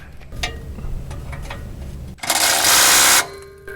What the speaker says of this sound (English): I'm going to be using an impact driver and socket there